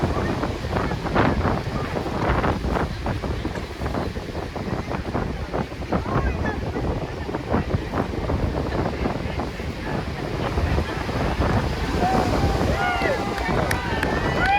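A sailboat racing in the Worrell 1000 mile race pushes off the start and rises over a small wave, with steady wind buffeting and rushing water filling the whole stretch at a constant, close level.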